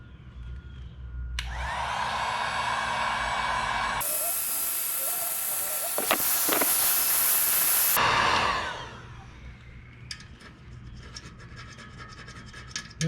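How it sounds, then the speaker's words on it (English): A heat gun blows a steady rush of hot air onto a chrome motorcycle exhaust to lift a rubber shoe print. The airflow switches to a louder, harsher setting partway through, then cuts off, leaving a quiet room. "I'm gonna use a heat gun because I really can't get it out today"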